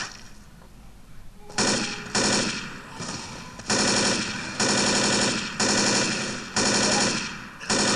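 Automatic gunfire in the video game Left 4 Dead rips out in a rapid series of loud, close bursts, each a second or so long, separated by short pauses.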